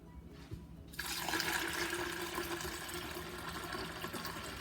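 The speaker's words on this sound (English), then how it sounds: "And now we're going to add in the tea." Warm lemon tea pours steadily into a pitcher already holding white sugar, a sudden rushing splash that starts after a second of quiet and continues evenly to the end.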